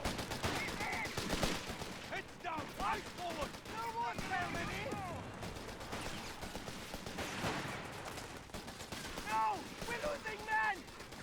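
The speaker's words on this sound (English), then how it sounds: "The gun is down there firing." A 17-pounder anti-tank gun fires in a video game battle: scattered heavy blasts and rumbling gunfire sit beneath steady talking, mixed with other battlefield noise.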